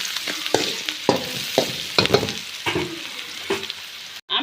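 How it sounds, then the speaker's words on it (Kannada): Spoon scraping and stirring chitranna (lemon rice) with salt in a pan, a string of short regular strokes, close and moderately loud, with faint frying sizzle underneath and no talking. "ರುಚಿಗೆ ತಕ್ಕಷ್ಟು ಪುಡಿ ಉಪ್ಪನ್ನ ಹಾಕಿ ಮಿಕ್ಸ್ ಮಾಡ್ಕೊಳ್ಳಿ"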